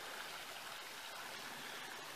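Creek water flows steadily over a flooded bed cluttered with fallen trees and buried timbers on a Florida trail, a soft continuous rushing wash with no voices.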